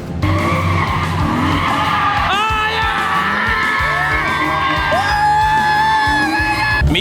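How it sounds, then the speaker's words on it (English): A drift car slides at an all-ladies drift day, tires screeching in long repeated skids over a roaring engine, with a crowd yelling and whooping nearby. "You're going drifting, bro."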